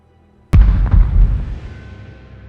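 A cannon firing grapeshot as a battle sound effect: one sudden loud boom followed by a deep rumbling decay, close and alone.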